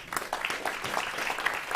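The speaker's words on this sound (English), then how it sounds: "Round of applause." Applause from an audience at a climate resilience and agriculture panel, a short burst of clapping that carries steadily under brief voices.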